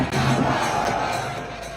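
Stadium concert crowd roaring and chanting, a massive swell of voices with cheers and whoops, loud and sustained, easing slightly toward the end.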